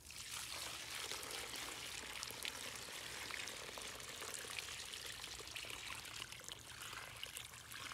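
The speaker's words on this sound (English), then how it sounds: "you're gonna water it in with plain water" Plain water is poured steadily onto the soil around a newly planted bare root tree, a continuous hissing, splashing stream that holds at an even level throughout with no voices.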